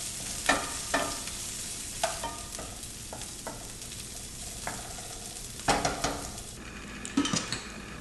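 Yellow bell pepper is stirred while frying in a pan for a vegan black bean burger, with a low sizzle under sporadic scrapes and clinks of a utensil against the pan.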